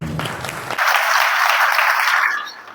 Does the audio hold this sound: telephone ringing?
no